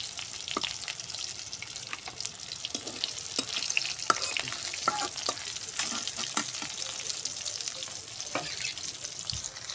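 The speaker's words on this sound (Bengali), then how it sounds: "সুন্দর করে মাছ ভাজা হয়ে গেছে" Steady crackling sizzle of fish frying in hot oil, with occasional sharp pops and a faint utensil stir, close and continuous without talk.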